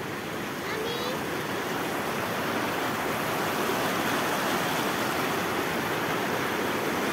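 A clean river flowing in the countryside after rain, a steady broadband rush of water, loud and unbroken throughout, with a brief faint voice near the start.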